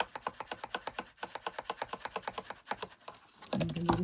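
Rapid rhythmic rubbing strokes as glued paper is burnished down on a shabby-style sewing machine gift box, a quick series of dry scraping pulses, close and fairly quiet, ending in a rougher handling rustle.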